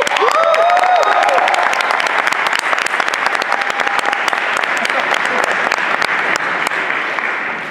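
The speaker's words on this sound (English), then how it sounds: "Everyone give him a big old round of applause again." A packed convention panel crowd for the original Mighty Morphin Power Rangers cast at Power MorphiCon 2014 breaks into loud, dense applause that holds steady for several seconds, with a few voices calling out over it.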